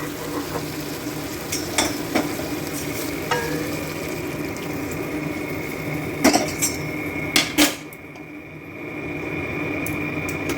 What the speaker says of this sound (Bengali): দেখো আমি পরিমাণ মতো জলটা দিয়ে দিলাম।